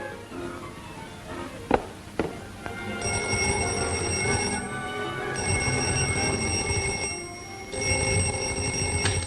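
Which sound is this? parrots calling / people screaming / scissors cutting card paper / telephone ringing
telephone ringing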